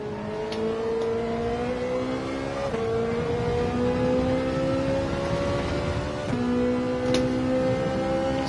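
Loud, close engine note of a Ferrari race car in Gran Turismo 7 accelerating hard, the pitch rising steadily through three upshifts, each marked by a sharp drop before climbing again, with no talking.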